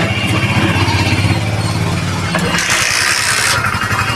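Hero Splendor BS6 motorcycle with a starting problem, its engine churning in a steady low rumble close by, then shifting midway with a brief hissing burst before settling back into a rougher rumble.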